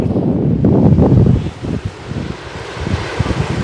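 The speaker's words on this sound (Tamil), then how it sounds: "காற்று தான் அடிச்சு கொண்டு" Wind blows along the Jaffna coast in Sri Lanka, a loud rushing gust that buffets the microphone, then drops to a lighter, uneven rustle.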